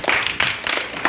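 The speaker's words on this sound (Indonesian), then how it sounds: "Tepuk tangan buat dia." Church congregation claps during a sermon, a brief burst of a few distinct, sharp claps in an uneven rhythm, close and fairly loud.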